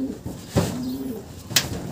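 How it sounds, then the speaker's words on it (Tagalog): A small racing pigeon coos softly up close in a couple of brief, low throaty calls, with faint background noise and no voices. "ito, napakalit na ibon to."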